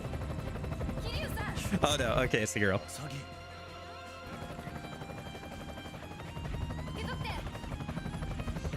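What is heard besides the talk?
helicopter in video game Yakuza Dead Souls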